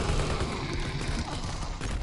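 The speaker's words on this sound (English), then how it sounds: "I'm shooting at the other." Heavy continuous gunfire in Call of Duty WW2, with machine guns and pistols in play: a dense, loud, unbroken roar of rapid shots that stays steady throughout.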